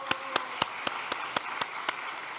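Church congregation clapping at a year-end thanksgiving service, evenly spaced claps at a steady beat, fairly faint and a little distant, with no talk over them.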